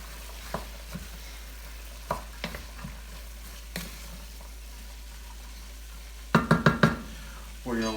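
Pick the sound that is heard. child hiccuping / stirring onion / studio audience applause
stirring onion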